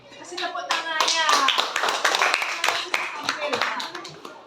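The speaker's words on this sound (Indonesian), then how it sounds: "Kasih tepuk tangannya." A classroom of schoolchildren claps together in a burst of lively applause, mixed with voices and chatter throughout.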